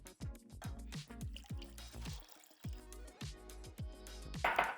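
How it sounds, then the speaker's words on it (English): Granulated white sugar and water glug into a cooking pot for simple syrup, a close series of rhythmic gurgling pours with brief pauses and a splashy finish. "add that to a pot with 1 cup of water"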